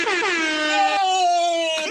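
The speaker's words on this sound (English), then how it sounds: "Can I give you an air horn? Air horn!" An air horn sound effect blares loud and close in one long, steady blast, alone without talk.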